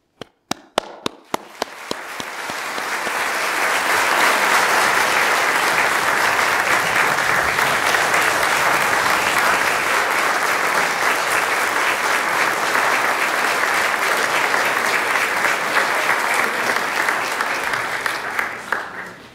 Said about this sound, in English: I now invite you joining us virtually to join me in offering a round of applause to the new